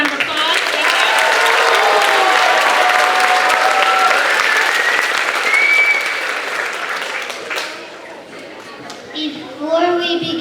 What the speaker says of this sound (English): Let's give it one final round of applause.